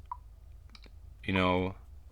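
A few soft, sparse key-tap clicks from a custom keyboard theme on a Samsung A36 5G phone, followed by a brief voice speaking near the end.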